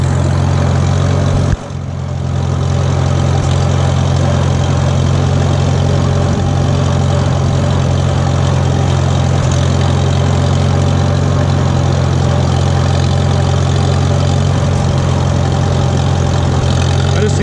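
A 1941 Farmall H tractor idling on old gasoline, a loud, close, steady low engine throb with an even running rhythm that holds unbroken after a brief dip near the start, no voices over it.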